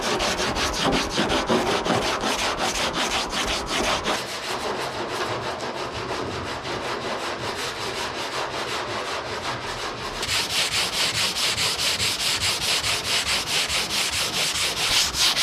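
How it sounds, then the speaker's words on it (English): Steady, rhythmic hand sanding of body filler on a 1959 Dodge Coronet rasps back and forth continuously at close range, growing brighter and harsher toward the end. "it tries to flex as you're sanding on it"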